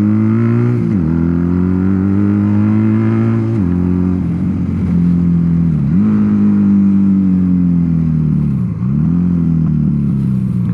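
A Patagonian Eagle 250cc motorcycle engine revs hard and close, climbing in repeated pulls with short dips between throttle blips, loud and alone with no talk.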